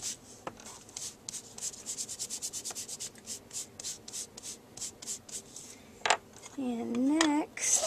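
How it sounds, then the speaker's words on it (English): A foam ink blending tool scrubs distress ink across paper in a steady run of short, close rubbing strokes, followed by a few brighter scraping sounds and a voice near the end. "rub that in really good all over my paper."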